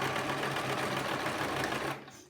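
A sewing machine runs steadily while stitching a ruffle onto a skirt, a continuous close mechanical whir that stops abruptly near the end.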